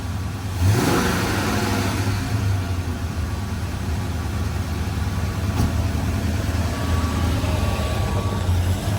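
A car's engine idles and revs as the car backs off a trailer, a steady mid-pitched motor hum with a rising rev early on, fairly close and continuous with no talking.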